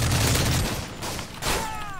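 Call of Duty Modern Warfare 3 gunfire, a dense loud burst of shots and booms that thins out midway and then flares again, without speech.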